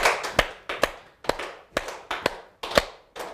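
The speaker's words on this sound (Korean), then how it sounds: "전부 자 손을 딱 해서 손뼉 한번 치워볼까요?" An audience claps in unison in a lecture hall, a series of sharp, loud single claps each followed by a short room echo, spaced roughly every half second, with no talking.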